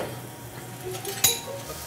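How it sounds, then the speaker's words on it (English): Onions frying in olive oil in a pan give a steady soft sizzle, with a single sharp metallic clink of a utensil against the pan partway through. "Get that sizzle going in there."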